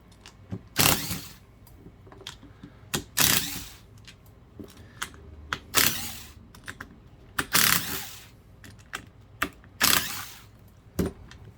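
T15 screws are backed out of the plastic clamshell housing of a Black & Decker 7-amp 1/2-inch drill, giving a run of sharp clicks and ratcheting bursts spaced a second or two apart, close and fairly loud.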